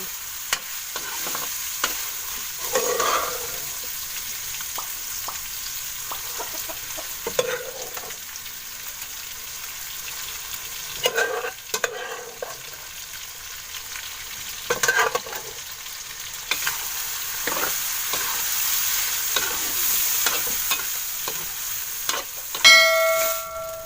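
Pork browns in a pan with a continuous soft sizzle, punctuated every few seconds by the scrape and clatter of a spatula stirring the meat.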